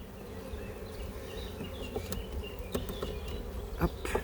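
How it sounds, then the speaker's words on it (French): A swarm of honeybees hums steadily at the hive, a dense, moderately quiet buzz with a few individual bees passing closer and brief soft knocks, and no talking. "Celui-là, c'est mon premier essaim de l'année."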